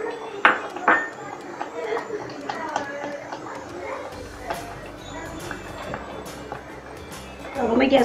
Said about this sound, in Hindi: आरारोट को हमें एक साइड में धीरे धीरे स्टर करते हुए डालना है ताकि ये तली में ना लगे